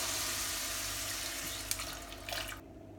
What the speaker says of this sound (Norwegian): En skvett med vann.